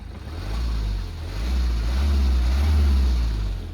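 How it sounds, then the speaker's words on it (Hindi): A Kia Carens diesel engine rumbles at idle, a deep, steady low drone that swells slightly and holds, close and loud, with no talking. "आप जो डीजल इंजन है ना उसका सिर्फ आप आवाज़ सुनना एक बार"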